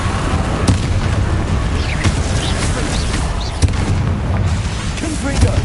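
An explosive Confringo blasting spell erupts in a video game amid a steady roar of battle, with a few sharp bursts and pops cutting through the loud continuous rumble.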